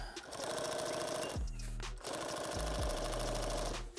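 A sewing machine sews a rifle case in two long, steady runs of rapid close stitching, pausing briefly in the middle, loud and without talk.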